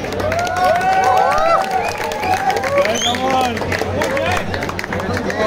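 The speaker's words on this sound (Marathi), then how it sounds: "जसं आत्ता तुम्ही मिलिंदसाठी टाळ्या वाजवल्या आहेत" Audience at a Ganesh mandal ground-breaking ceremony applauding and cheering, a steady wash of clapping and crowd noise with voices talking throughout.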